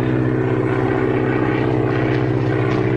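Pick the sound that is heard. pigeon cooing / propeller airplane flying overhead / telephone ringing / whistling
propeller airplane flying overhead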